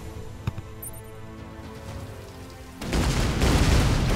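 A rain weapon effect in the artillery game Shellshock Live: a single thump, then a loud hissing rush of falling rain starting partway through and continuing to the end, no talk.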